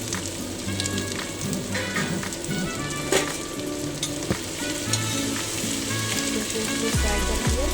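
Chopped onion sizzling and frying in desi ghee, a dense, continuous crackle with scattered pops and stirring clatter throughout, close and fairly loud with no voice over it.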